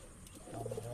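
Madras and Andhra cross-bred pigeons in a breeding loft, soft low coos rising in the second half, close and gentle over faint room noise.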